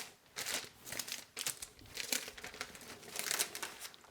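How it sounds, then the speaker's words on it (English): Clear cellophane sheet crinkling and rustling close by as it is handled over oiled fondant, in several rapid bursts of crisp crackle. "place my second cellophane sheet on top"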